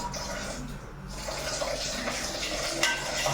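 A weak stream of water runs from a kitchen tap into a sink, a soft, steady trickle that stays faint and close throughout, with no one speaking.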